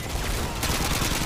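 Dense, continuous gunfire from the video game Call of Duty Modern Warfare 2 crackles in a rapid, overlapping barrage, with no pause across the whole burst.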